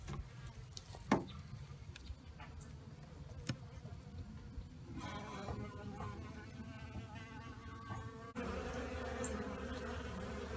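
Honeybees buzz around a hive entrance fitted with a reducer and mouse guard, faint overlapping drones passing near and far against quiet outdoor background, with a few soft taps and a louder wash of noise toward the end.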